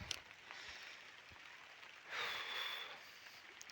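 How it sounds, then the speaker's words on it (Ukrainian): Light rain falls in Cherkasy region near a greenhouse, a soft faint patter with a brief louder hiss midway and no voices. "Слабенький дощик."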